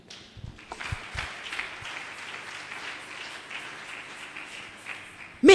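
A church congregation applauds together, a dense steady clapping from many hands that fills the room, with a few louder individual claps near the start and a sudden burst at the very end.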